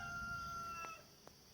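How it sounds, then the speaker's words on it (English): Rooster crowing faintly at a distance, a single drawn-out call heard outdoors at a camping event, with steady background hum and no talking. "And Rooster's still alive too"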